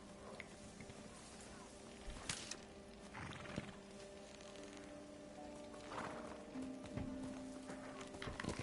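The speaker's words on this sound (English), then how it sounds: "You're a good horse." Horse hooves clip-clopping in the video game Ghost of Tsushima, with steady hoofbeats and an occasional whinny over a busy game soundscape of wind and ambient effects.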